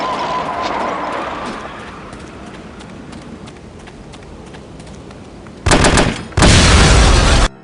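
Video game gunfire in No One Lives Forever comes as two loud, sharp bursts of rapid automatic fire near the end, after a stretch of quieter clattering in-game noise.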